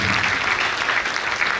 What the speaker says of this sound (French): Mesdames et messieurs, on peut encore s'applaudir